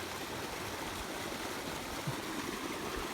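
Small creek running down a slope at an abandoned ski resort on Iron Mountain, California, a steady broadband rush of flowing water held at an even level throughout, with no voices.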